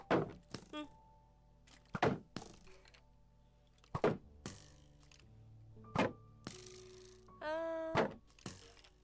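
Skeleton enemy in a video game firing arrows at the player, heard as sharp, close thunks and cracks spaced about every two seconds, with mechanical twangs and game effects in between.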